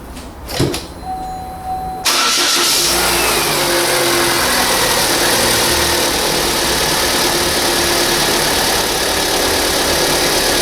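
A 2013 Vauxhall Astra 1.6 SRi engine cranks and catches after a brief mechanical clunk, then settles into a loud, steady idle with a constant whine and hum close by.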